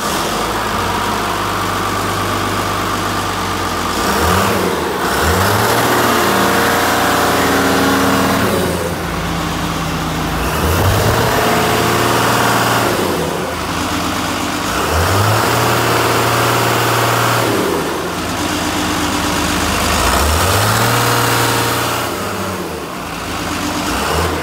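Hyundai HL740TM-7 wheel loader engine running loud and close, idling then revving up repeatedly in a regular cycle, each rise and fall of the engine note clearly audible.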